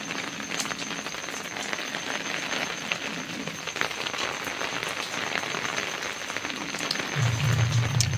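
Steady rain falling outdoors, a dense continuous patter with no talk, growing slightly louder toward the end.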